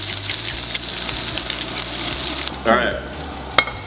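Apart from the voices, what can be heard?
salmon cakes frying in butter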